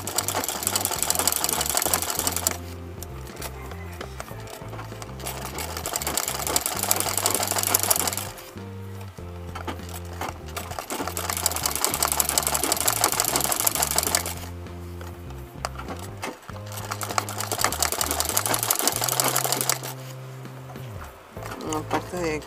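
A sewing machine stitches decorative embroidery with black thread around a flower, loud and close, running in long rapid bursts separated by short pauses.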